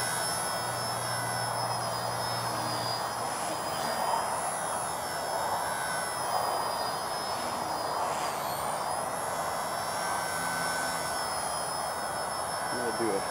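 XK K110 brushless RC helicopter flying outdoors, a steady high-pitched rotor and motor whine holding constant and fairly loud throughout, with people talking quietly now and then.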